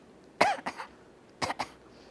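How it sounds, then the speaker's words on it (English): Two separate coughs about a second apart, each a short, close double burst, stand out against an otherwise quiet room. "If somebody has a cough"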